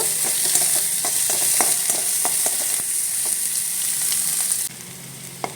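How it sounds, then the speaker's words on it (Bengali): Onion frying in mustard oil in a wok, stirred with a spatula: a constant sizzle with repeated scraping taps, which quiets suddenly near the end. "পেঁয়াজটা একটু ভাজা ভাজা করে নেব"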